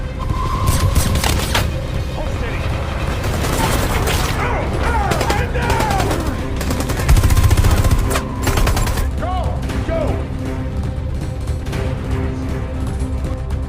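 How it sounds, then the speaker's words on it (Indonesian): Gunfire rattles through a film shootout, dense bursts and single shots mixed with booms and mechanical clatter, loud and continuous throughout with a voice speaking over part of it. "Adegan tembak-menembak pun terjadi."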